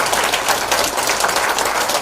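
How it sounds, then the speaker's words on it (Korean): An audience at a security lecture and rally welcomes the speaker with loud, continuous clapping from many hands, close and steady throughout with no voices over it. "다시 한번 큰 박수 부탁드립니다"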